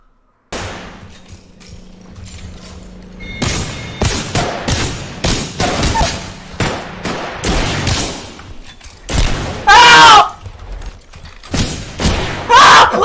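Rapid bursts of gunfire and heavy thuds ring out in the Apex Legends video game, loud and close, arriving in irregular volleys and single shots.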